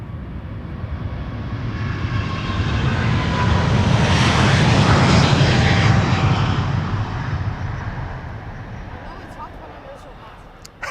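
An Airbus A350-900 jet, seven years old, passes by at Amsterdam Schiphol, its roar swelling to a loud peak midway and then receding.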